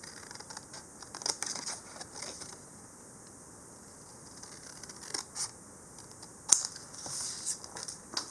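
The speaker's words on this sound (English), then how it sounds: "And then I just cut that out to get my triangle." Scissors cut a paper triangle, with sparse crisp snips and rustles spread across a quiet background. One snip near the end is sharper and louder. Close by, no talking.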